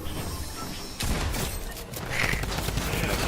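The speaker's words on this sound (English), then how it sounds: "You hear the drum gun?" A drum gun in the Fortnite video game fires as a dense, continuous roar of rapid shots, loud and sustained throughout, with a sharp burst of intensity partway through.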